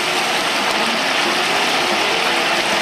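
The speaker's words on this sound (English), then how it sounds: "That oil is moving out all that water inside this bird." Whole turkey deep frying in hot oil, a dense, steady, loud hiss and bubbling roar of sizzling oil with no pauses and no voices.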